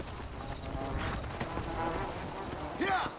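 Horse hooves clip-clop in the Red Dead Redemption: Undead Nightmare video game, a steady rhythm of fairly close footfalls under someone talking.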